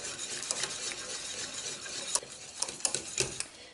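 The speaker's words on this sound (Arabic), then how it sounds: "المهم صافي نبقى نحرك حتى يبدا يغلي الخليط." A spoon stirs a flan mixture in a pot as it heats toward a boil, with a steady scraping swirl and sharper clicks against the pot toward the end, close and fairly soft, with no talking.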